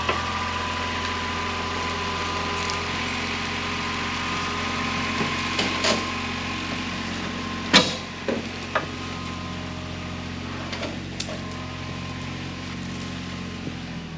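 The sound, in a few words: tractor engine dragging an old trailer out of the woods on a chain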